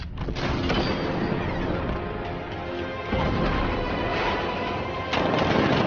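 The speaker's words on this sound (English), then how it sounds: ".60mm cannon operational." Heavy video game .60mm cannon blasts and crashing impacts roar continuously, with sharp booms punctuating dense mechanical noise.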